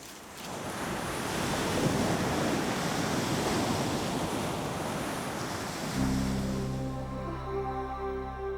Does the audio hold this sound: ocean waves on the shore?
yes